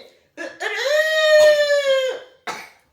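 A human voice mimics a rooster's crow, one long, rising and falling call with a strong harmonic tone, followed by a short breath-like sound.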